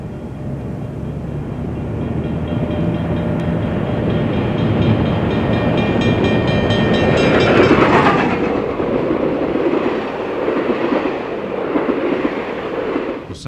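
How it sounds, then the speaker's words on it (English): A 1960s steam locomotive pulling its tender and a canteen tank car of water rolls past, a loud sustained rumble with rhythmic clatter that swells to a peak near the middle before easing off, with no talk. "Here it comes. The locomotive pulled a canteen tank car of water behind the tender."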